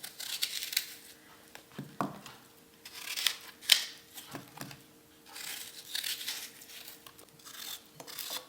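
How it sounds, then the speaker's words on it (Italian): Peeled, cored apples are diced with a knife, producing a series of short, close cutting and crunching strokes in irregular bursts, fairly quiet, with no talking. "le privo del torsolo e le taglio a dadini"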